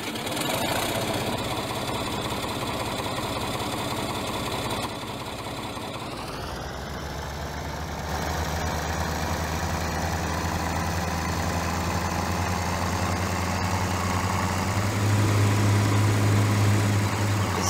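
A New Holland H8060 tractor engine idles in Farming Simulator 17, a steady mechanical drone that shifts pitch partway through and holds on, with no voices.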